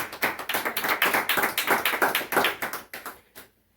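A church congregation claps in a quick, rhythmic unison beat, loud and close, about a dozen strong claps that slow and stop, leaving silence.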